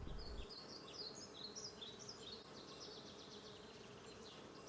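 Honeybees buzz around hives at an urban apiary in Saint-Prix, a faint, continuous swarm hum with individual insects drifting past nearby, under a low outdoor background with a few bird chirps.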